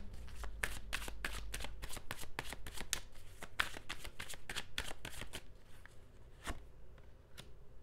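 Tarot cards shuffled by hand for a reading, a steady run of crisp riffling flicks for about six seconds that thins to a few separate snaps near the end, close and alone with no voice.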